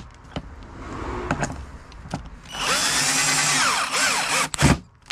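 A power driver sends screws into a plywood boat, with short clicks and pulses giving way to a loud, close whirring drive lasting a couple of seconds, then a final burst.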